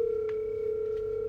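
Telephone tone after a call is cut off, a steady unbroken electronic tone held for the whole moment, close and clear with no talk.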